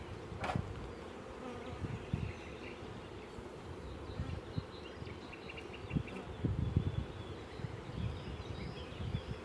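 Swarm of honeybees droning around a hive, a low continuous hum with occasional closer buzzes passing by and a few soft knocks.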